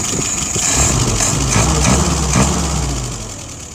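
A warm car engine idles at about 680 RPM, a steady low rumble with a faint mechanical whine, close and loud, easing slightly toward the end.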